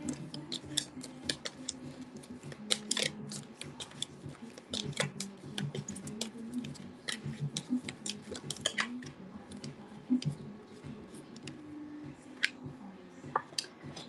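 Someone shuffles a deck of cards for a card reading, with continuous soft riffling and clicking taps close by, quiet and uneven, with no talking.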